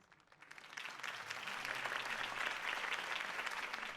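A crowd in a Batman video game bursts into sustained applause after a campaign speech, many hands clapping steadily, swelling quickly and holding at a moderate level.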